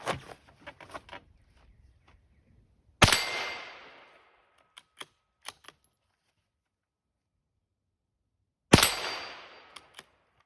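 A Citadel Trakr .22 WMR rifle fires two sharp, loud reports several seconds apart, each with a short decaying tail, separated by quieter clicks and handling clatter.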